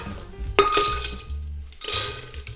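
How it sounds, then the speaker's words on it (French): Crushed ice tipped into a blender jar for a Jungle Bird tiki cocktail: a loud rattling clatter with two gritty pours about a second apart, close and alone. "On complète notre blender avec de la glace pilée"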